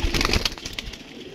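A pigeon coos briefly and close, with soft rustling around it.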